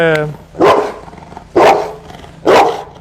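A brief voice opens before a dog lets out three loud, evenly spaced barks close by, each ringing out alone.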